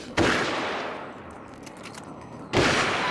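Two loud, sharp gunshots ring out in the video game Alan Wake's American Nightmare, about two seconds apart, each with a short decaying tail, and no voices between them.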